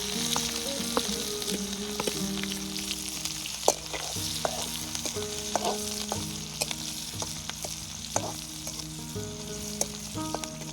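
Chilies fry in hot oil in a pan, alongside curry leaves, for a village-style Gujarati mixed vegetable dish, a close, constant sizzle punctuated by scattered crackles, pops and utensil clinks, with no speech.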